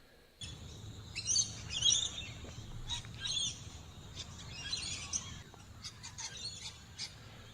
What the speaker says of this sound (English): Now there's definitely lorikeets going on there and magpies.